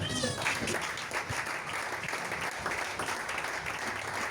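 A church congregation applauds and cheers during a sermon, dense clapping filling the room at moderate loudness and staying steady throughout, with voices mixed in.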